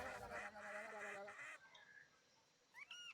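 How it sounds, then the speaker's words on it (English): A creature calling in the Spore video game, a honking, goose-like bird cry over game sounds, followed by a few short rising chirps near the end. "we need to befriend this bird"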